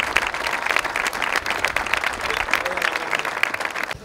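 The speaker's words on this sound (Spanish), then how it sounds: "yo os pido un aplauso para ella." Municipal ceremony audience in Peníscola applauding continuously, a dense wash of clapping with a voice faintly present underneath.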